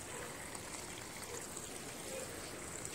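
Water flowing in a plaza park among trees, a steady broadband rushing wash, soft and even throughout with no distinct splashes or talk.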